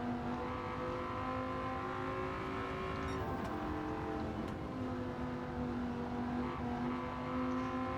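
A Dodge Viper GTS-R coupe's engine holds a steady high drone as it runs flat out on the Tokyo Expressway in Gran Turismo 7, with a couple of faint brief knocks partway through and no talking.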